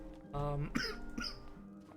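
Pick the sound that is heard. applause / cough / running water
cough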